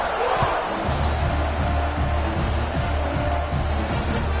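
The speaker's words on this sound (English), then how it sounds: "this crowd is buzzing after that last score" Crowd at a college football stadium buzzing steadily before a kickoff, a dense broad roar throughout with a commentator talking over it.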